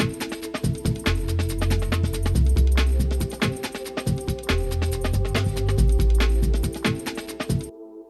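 Two breakbeats layered together in a jungle tune, dense chopped drum hits over deep rolling bass, loud and continuous before cutting off abruptly near the end.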